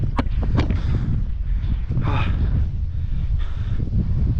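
Steady wind buffets the microphone on an exposed hilltop lookout at the 17th-century Channarayana Durga fort, a constant low rumble with gusty swells throughout and no talk.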